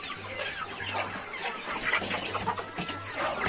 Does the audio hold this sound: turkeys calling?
yes